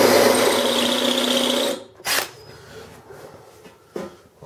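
A steady, high-pitched whirring drill runs for nearly two seconds boring into a Dana 60 metal axle, then stops, leaving quiet clicks and a couple of brief mechanical knocks.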